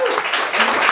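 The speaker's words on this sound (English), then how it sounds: "Let's give him a round of applause." A crowd at a launch party breaks into applause for a guest being called up on stage, a dense, close wash of clapping with a voice speaking over it.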